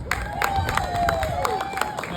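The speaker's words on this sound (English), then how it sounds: "Show of applause." A comedy club audience at The Landmark on Tower applauds, a dense wash of clapping from a crowd with a few sharp individual claps standing out over the steady roar.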